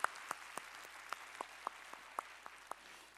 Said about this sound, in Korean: 우리의 찬양을 받으실 주님께 영광의 박수 올리겠습니다